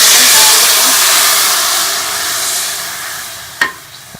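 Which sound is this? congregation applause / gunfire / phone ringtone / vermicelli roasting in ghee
vermicelli roasting in ghee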